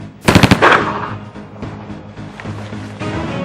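A roller-locked submachine gun fires a rapid, loud, close burst of about six shots, followed by scattered lighter reports and mechanical clatter, with no talking over it.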